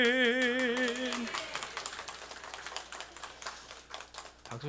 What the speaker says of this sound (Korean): 박수 치는 분들은 건강하게 오래 사실 거예요